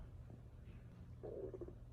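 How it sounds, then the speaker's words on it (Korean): A person's stomach growls softly, a low gurgling rumble swelling for about half a second over a steady quiet room hum. "계속 꼬르륵거리네 민망하게"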